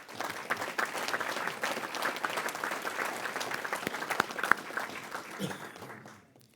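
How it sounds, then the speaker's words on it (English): Steady, moderately distant crowd applause at a media day honoring a coach's legacy, dense clapping holding for several seconds before tapering off at the end. "let's give a round of applause"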